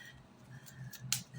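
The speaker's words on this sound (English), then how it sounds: "I'm just shuffling and shuffling and shuffling and shuffling." Tarot cards being shuffled by hand, giving a few soft, papery snaps and flicks that are close but very quiet against faint room hiss.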